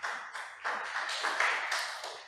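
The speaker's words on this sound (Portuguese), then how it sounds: "Dê uma salva de palmas para Jesus." A church congregation claps together in a short burst of applause, dense, fairly close and steady throughout with no talk over it.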